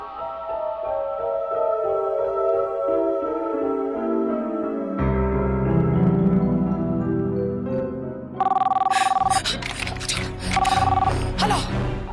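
A telephone rings in a Hindi TV serial drama scene, with two bursts of ringing over loud dramatic background music that plays alone beforehand.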